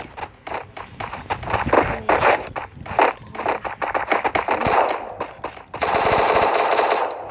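Rapid bursts of automatic gunfire from the Free Fire shooting video game, loud and dense, with short repeated volleys and a sustained heavier barrage in the final seconds, no talk.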